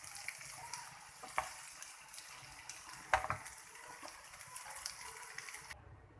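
Potatoes frying with onions in a pan for aloo bharta, a steady soft sizzle running throughout with a few brief clinks and scrapes, no voices.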